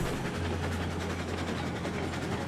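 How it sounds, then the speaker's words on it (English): A locomotive runs with a steady low engine hum and a faint rhythmic rail clatter, continuous and fairly close, with no talk. "This locomotive will just easily run away with it."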